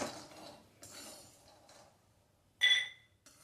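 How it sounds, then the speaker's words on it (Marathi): Roasted ingredients for traditional dinkache ladoo being transferred into a small bowl: a few soft scrapes, then one bright, close clink of metal against the bowl, in an otherwise quiet room. "हे भाजून झालेले हे मी एका वाटीत काढून घेणार आहे"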